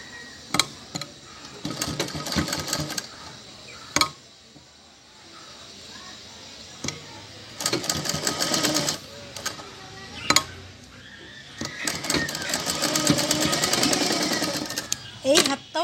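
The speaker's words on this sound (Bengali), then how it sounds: "ঢুকিয়ে এবার সেলাইটা করতে হবে" A sewing machine stitching a garment sleeve into the shoulder seam runs in several fast, close, whirring bursts with pauses and clicks between them, while someone talks over and between the runs.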